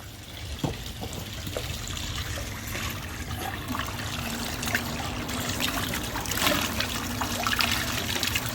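Water drains steadily down a floor drain in the flooded lobby of an HOA complex, a continuous trickling, gurgling flow heard close up with no talking.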